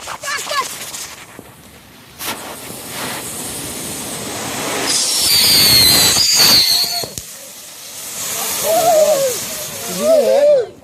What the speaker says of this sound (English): I wasn't expecting an explosion like that.